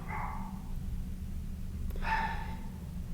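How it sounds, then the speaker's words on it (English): A dog barks twice in the distance, two short separated barks over a low steady background rumble. "that's my neighbor's dog"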